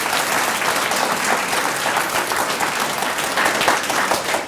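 Loud, close audience applause at a national spelling bee final, thick continuous clapping from a large crowd throughout.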